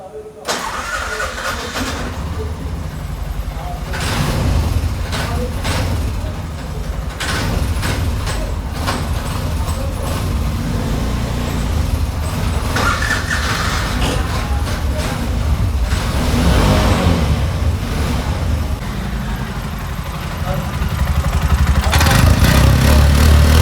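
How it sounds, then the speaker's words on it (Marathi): A new 2024 Bajaj RE BS6.2 auto rickshaw engine cranks and catches, then runs at a steady rattling idle close by for about twenty seconds, growing louder near the end, with someone talking over it. "चालू करून बघूयात मित्रांनो आपली रिक्षा"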